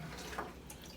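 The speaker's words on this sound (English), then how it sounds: "So when I add the new water, it does disturb the substrate" Treated water poured from a drink shaker into a tropical fish tank, a brief soft splash and trickle heard close and fairly quiet.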